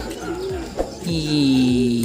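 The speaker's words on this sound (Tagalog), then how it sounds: "Ayun mga sir, naronda na mga kalapati ni Nico." Young racing pigeons coo softly nearby, with low rolling calls mixed into background noise and a brief knock partway through.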